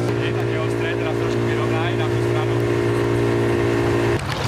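Fire brigade rescue motorboats on Môčovská reservoir drone with a steady, loud engine hum, close by, while voices murmur beneath it; a sharp shift in the noise comes near the end.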